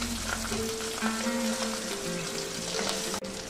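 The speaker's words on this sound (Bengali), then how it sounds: "এবার আমি এর মধ্যে দিয়ে দিচ্ছি বেটে রাখা পেঁয়াজ" Ground onion paste hits hot oil after fried taro roots are lifted out, giving a loud, steady crackling sizzle that lasts throughout and ends with a brief clatter near the end.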